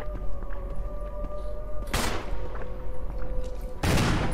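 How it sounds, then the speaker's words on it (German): Gunfire in Resident Evil Remake HD Remaster as shots are aimed at Lisa: two loud, sharp broadband bursts about two seconds apart over a steady game hum. "Wir schießen auf Lisa."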